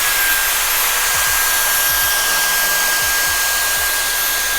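A Dyson Airstrait hair straightener blows air through hair in a steady, loud whooshing roar that stays constant throughout, with faint low thumps underneath.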